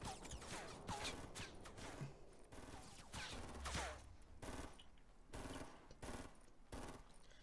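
Rapid bursts of gunfire in the battle royale game Fortnite, sharp cracks and automatic volleys repeating irregularly, loud and close with short gaps between shots.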